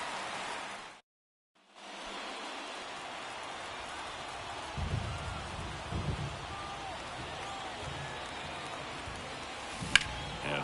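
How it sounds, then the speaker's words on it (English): Steady rain falling over a ballpark during a baseball game, a broad continuous hiss with a brief dropout near the start and a faint background rumble of the venue. "This rain is not letting up."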